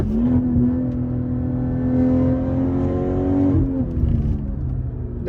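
A 530hp BMW G30 540i engine pulls hard uphill after a downshift on a winding mountain road, its steady rising drone loud and continuous from inside the cabin with no talk.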